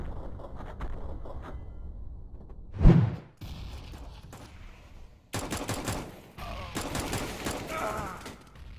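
Tapped gunshots from a USP pistol in a video game: one loud, sharp report stands out, followed by bursts of further shots and mechanical clatter.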